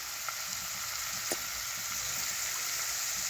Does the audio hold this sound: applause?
no